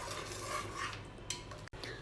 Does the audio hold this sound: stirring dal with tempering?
yes